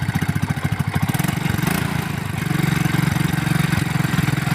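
A Yamaha motorcycle engine, close and loud: a rapid chugging idle that rises as the throttle is opened, holding a steadier, higher running note before pulsing again.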